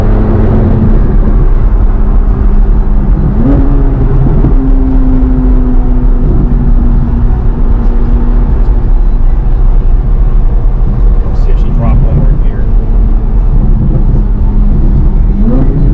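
Corvette Z06 engine rumbling loudly and steadily through a drive, with a rising rev sweep and scattered exhaust pops layered over constant road noise.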